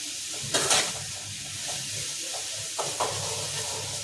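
Tomato and onion sauté in a pan for a Sunday-special Tamil kuzhambu, giving a soft, steady sizzle with a few sharper bursts of spatula scraping and stirring, fairly quiet and close.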